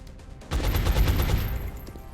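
Burst of gunfire in XCOM Enemy Within, a rapid string of four shots fired in under a second, loud and close.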